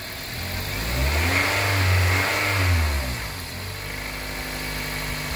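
A car engine being revved, with a vehicle that has a variable valve timing solenoid fault: the engine swells from idle to a smooth rise and falls back to a steady hum, close and continuous with no talk.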